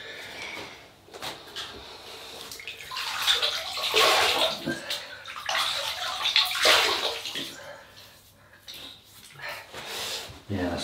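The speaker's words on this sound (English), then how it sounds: "I just wet the face." Water splashes and trickles as a man wets his face at a basin before a Christmas Eve shave, with bursts of splashing that come and go and are heard close up.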